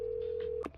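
A telephone gives a long steady dial tone, then a quick pair of dialing beeps cuts it off, heard clearly and up close with no voices.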